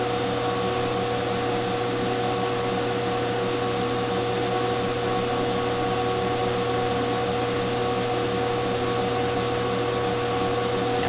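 A PDP-8/a transistor minicomputer runs a chess program at full processor load, giving off a loud, constant whirring fan hum with a steady electrical drone that holds unchanged throughout, with no voices.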